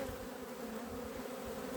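Steppe honey bees buzz at the hive in spring, a dense, steady hum of many insects close to the ear with no voices.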